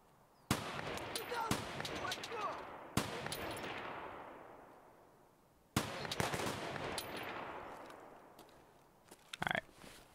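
Gunfire in Escape From Tarkov: three sharp shots at wide intervals, each with a long, fading echo tail, then a short burst of quick clicks near the end, with no talk.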